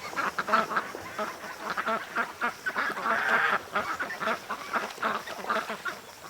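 Ducks quack in a loose, continuous chatter near a creek, with a Muscovy among the flock, moderately close and rising and falling in bursts with no talking.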